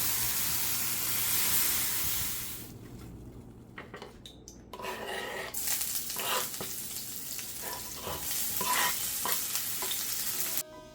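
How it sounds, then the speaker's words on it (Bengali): A ground spice mix fries lightly in oil in a pan, giving a steady close sizzle and hiss with scraping stirs and clinks of utensil against cookware, and no voices. "তারপর আমি আরও একটু তেল দিয়ে এটাকে এখন বেজে নিব হালকা বেজে নিব"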